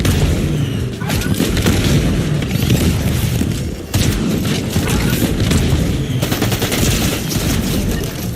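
Video game combat with repeated heavy bomb explosions and rapid bursts of gunfire, loud and continuous, with booms recurring every few seconds amid dense shooting.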